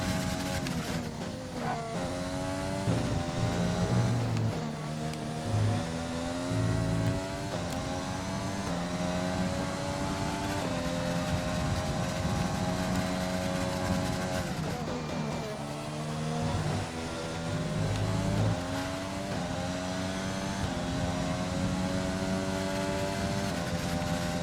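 Simulated Formula 1 race car engine from an F1 video game at the Austrian Grand Prix, a loud continuous high-pitched whine that rises and falls with gear changes and throttle, sustained throughout with no talk.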